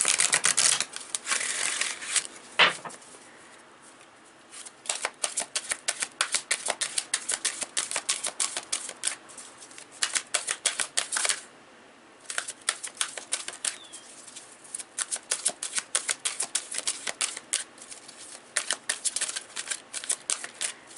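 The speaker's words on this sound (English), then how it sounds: "These cards are going wonky here. Let me give it a shuffle." Tarot cards being shuffled by hand in repeated crisp riffling bursts, with brief pauses between rounds, close up and fairly loud.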